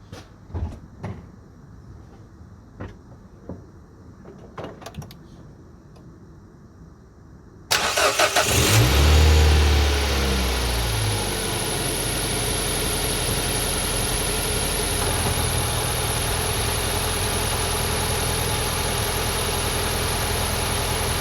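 A few soft clicks and clunks, then a 2008 Nissan Qashqai petrol engine cranks and catches with a loud roar before settling into a steady, even idle after spark plug replacement.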